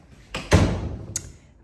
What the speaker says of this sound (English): so let's close this door.